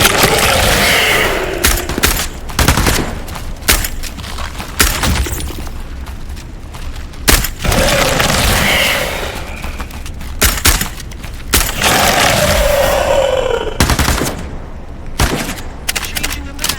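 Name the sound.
gunfire in a shooter video game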